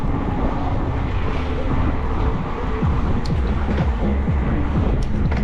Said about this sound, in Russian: Ох, ветер, да.